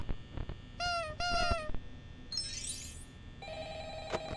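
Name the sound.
phone ringing in video game Five Nights at Freddy's LEGO Edition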